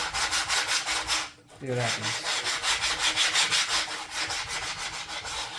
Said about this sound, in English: I'm just gonna hand sand for a bit.